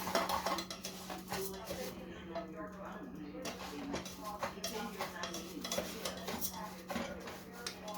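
Rice frying in too much oil in a pan for Mexican rice, with a soft sizzle under repeated scraping and clinks of a utensil stirring against the pan, while a person talks throughout.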